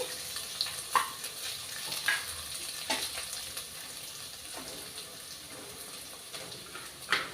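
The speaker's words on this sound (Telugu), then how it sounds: "అల్లం తెల్లుల్లి వేసుకోవాలి ఇవి కొంచెం ఎర్రగా వేగాలన్నమాట" Crushed ginger and garlic fry in hot oil in a home kitchen as part of a vegetable biryani: a steady close sizzle with scattered sharp pops and stirring clicks, and no talking.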